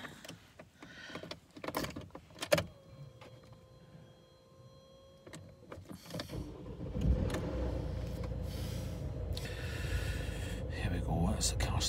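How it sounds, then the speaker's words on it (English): After a few soft clicks and a faint electronic tone inside a car with 101,000 miles, the engine cranks and catches, settling into a steady rumbling idle, while a person talks quietly nearby. "it's the car starting up"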